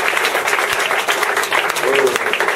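A church congregation at a New Year's thanksgiving service applauds, a dense, steady wash of clapping from a large crowd, with voices mixed in throughout.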